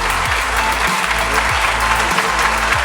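Audience applause at a university academic-year opening ceremony in Namur, a steady dense wash of clapping close and loud, welcoming a computer science professor onto the stage.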